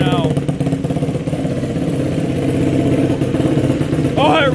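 A 2023 Yamaha YFZ 450R ATV engine, fitted with an upgraded ECU, runs steadily at close range, a low continuous engine drone with a brief rev near the end while a voice talks over it.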